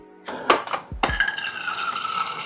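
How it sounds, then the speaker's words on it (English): Water poured into a blender jar for a protein smoothie, opening with a few clunks and splashes before settling into a steady, close pouring rush. "We're putting in the water, it's not in the smoothie bag."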